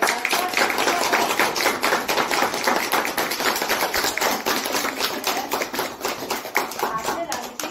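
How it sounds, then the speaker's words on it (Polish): An audience at a kindergarten induction ceremony claps steadily for several seconds, a dense, sustained patter of many hands close by. "Prosimy o duże brawa"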